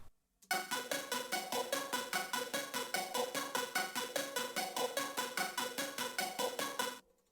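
A bright Analog Lab synthesizer lead preset plays a fast, steady run of evenly repeated notes for about seven seconds, then stops abruptly; no voices.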